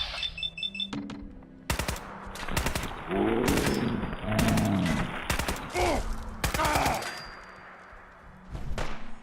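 Rapid minigun fire from the video game Fallout 4, several loud sustained bursts of dense, rattling shots with brief gaps between them, plus a few heavy thuds.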